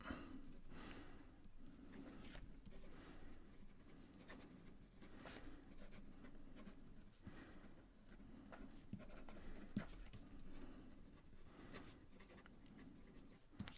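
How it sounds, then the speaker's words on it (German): Fountain pen writing on paper, a close, quiet scratchy nib moving in irregular strokes with faint breathing nearby, no speech over it. "Es ist angenehm, mit diesem Füllfederhalter zu schreiben."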